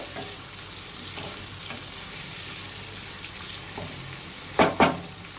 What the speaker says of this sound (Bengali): এবারে এই আলু আর চিংড়ি মাছের সঙ্গে একটু পেঁয়াজ রসুন লঙ্কাটা ভেজে নেব